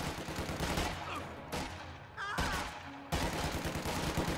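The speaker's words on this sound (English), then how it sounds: "We're taking fire over here." Sustained gunfire rages in a World War II strategy game battle against German grenadiers, with rapid rifle and machine-gun bursts crackling continuously at moderate distance with no talk.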